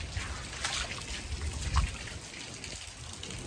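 Rainwater trickles and drips steadily nearby, a soft, continuous patter with a few louder splashes.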